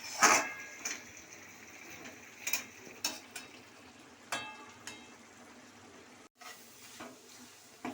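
A spoon stirring banana flower and potato curry (mochar ghanto) in a pan gives a few scattered scrapes and taps over a faint, quiet sizzle.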